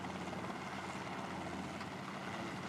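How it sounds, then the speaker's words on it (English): Simulated helicopter in a flight simulator game, engine throttling up for liftoff from a deck, heard as a steady, faint, dense rotor and engine drone with no voices. "I'm going to lift this thing off the deck. All right, so I'm increasing the throttle there,"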